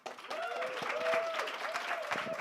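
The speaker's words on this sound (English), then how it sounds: "So, round of applause, everybody." A room of people at an entrepreneurs' panel event gives a round of applause, a moderate spread of clapping with a voice or tonal sound weaving through it.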